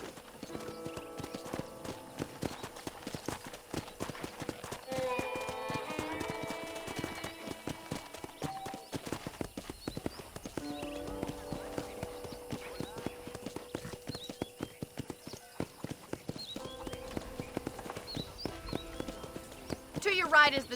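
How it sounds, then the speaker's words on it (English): Horse hooves in the video game Red Dead Redemption on PS5: steady rhythmic clip-clop of a ridden horse on a ranch, continuing throughout under a voice and quiet game ambience. "let's see if you can still ride a horse"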